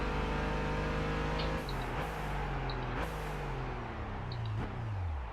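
A synthetic car engine in Gran Turismo 5 revs up repeatedly, pitch climbing then dropping at each gear change around 7,000 rpm, loud and continuous with no talking.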